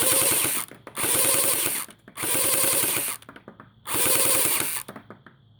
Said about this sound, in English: I don't know about that sound, the gearbox sound